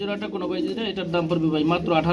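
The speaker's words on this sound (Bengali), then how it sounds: "রেসার রেসার কবুতর" Racer pigeons, breeding pairs kept for sale, give soft, throaty rolling coos close by, repeated in overlapping calls across the short stretch.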